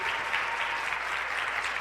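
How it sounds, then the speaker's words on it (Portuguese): A church congregation claps during a Baptist service, a dense steady wash of hands close and continuous for a brief moment. "Vamos aplaudir o nome de Jesus?"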